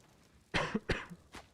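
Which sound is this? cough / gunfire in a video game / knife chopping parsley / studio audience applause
cough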